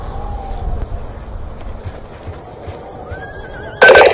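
Horses in the Afghanistan mission of Call of Duty Black Ops 2 give a clear whinny near the start, then a second neigh and a loud burst of movement and hoof noise at the end over game ambience.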